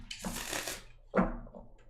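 Tarot cards being shuffled by hand, two close bursts of riffling card noise, the second sharper, with no talking.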